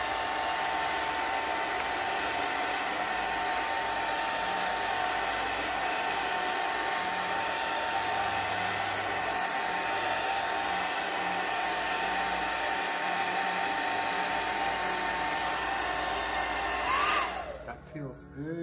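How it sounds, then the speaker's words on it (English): A hair dryer on medium heat blows steadily and loudly at close range, drying art journal paper, a constant whooshing whir that cuts off abruptly near the end. "I'm just bringing my hairdryer on a medium heat here just for a minute."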